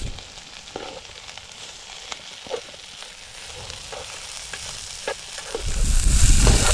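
Onions frying in a pan on a Trangia camping stove during a freezing wild camp, a close continuous sizzle with occasional stirring scrapes, growing louder and hissier toward the end.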